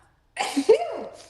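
A single sharp sneeze breaks the silence, close and loud, trailing off with a breathy tail.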